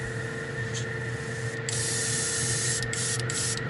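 Airbrush spraying plastic-model paint thinner only, a steady close hiss of fine spray with a few brief breaks and bursts as the trigger is worked.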